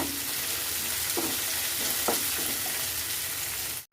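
Chopped capsicum and green chilli with onion stir-frying in a pan for a street-style noodle frankie: constant close hiss of sizzling with a few soft spatula scrapes, then a sudden cutoff at the end.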